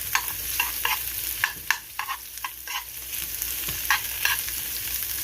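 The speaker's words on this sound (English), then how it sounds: "Just gonna make this saute a little bit" Vegetables with Scotch bonnet and jalapeno peppers sautéing in a pan, a steady close sizzle with periodic stirring scrapes and taps throughout.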